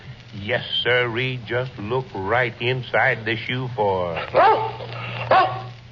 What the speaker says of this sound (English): That's my dog, Tige.